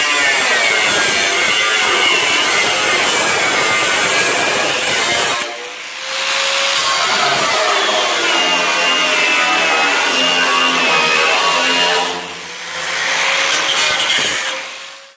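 A power tool cuts sheet metal at a 45 degree angle, a loud continuous whining grind that eases briefly twice before resuming.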